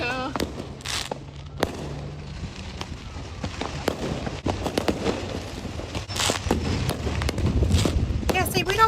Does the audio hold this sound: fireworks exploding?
yes